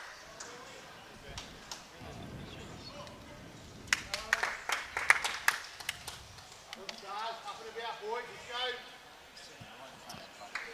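Applause and scattered clapping from a crowd at a lawn bowls state challenge finals series, with bursts of claps mixed among chatter and background voices, moderately loud and fairly close.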